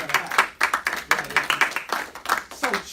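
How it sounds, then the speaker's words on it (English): Applause at a team building summit, heard as fairly close, distinct claps from a modest group, uneven and separated rather than a dense roar. "Let's give him a round of applause as a matter of fact."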